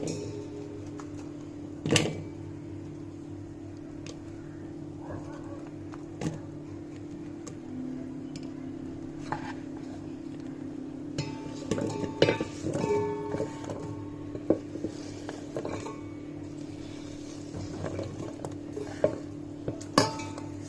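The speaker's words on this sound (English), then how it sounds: "So take a big pot and put all the vegetables in." Mixed vegetables, including carrots, tipped into a big pot for a roasted chicken and vegetable bake, giving scattered clinks, soft thuds and scraping against steady background hum, with a few sharper knocks in the second half.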